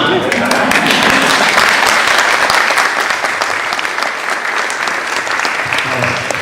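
A room full of people at an education funding meeting breaks into sustained, loud applause, dense and even from start to finish, without speech over it.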